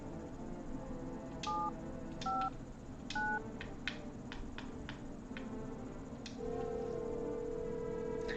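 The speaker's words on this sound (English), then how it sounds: "I want to see if we can call on the phone with no energy." Telephone keypad tones in a video game, a series of short two-note beeps spaced irregularly, then a long steady dial tone, faint and alone over a low background hum.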